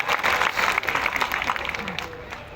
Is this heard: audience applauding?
yes